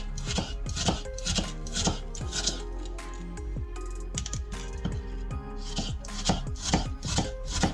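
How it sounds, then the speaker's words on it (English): A knife slicing food into thin pieces on a board, a brisk, even run of close, crisp cuts that pauses briefly midway and then picks up its quick rhythm again, with no speech. "So you slice that up into thin slices like so"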